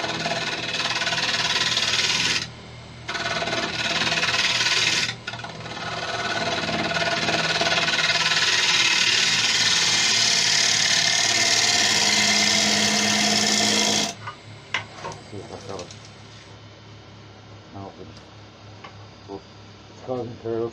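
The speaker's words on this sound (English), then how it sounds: "I'm just going to give it a hit with the negative brake scraper." A negative rake scraper cutting Malaysian acacia spinning on a wood lathe gives a steady, loud rasping hum, broken by two brief stops, then falls to a quieter whir with ticking while someone talks.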